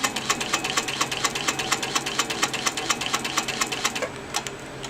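Sewing machine doing free-motion quilting with a ruler, its needle beating in a fast, even, close rhythm that continues without pause throughout.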